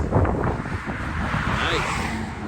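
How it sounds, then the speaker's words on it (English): Outdoors on a smooth road in South Florida, wind rushes steadily across the microphone as a broad, continuous roar while someone talks over it. "It's nice and windy, it's not cold."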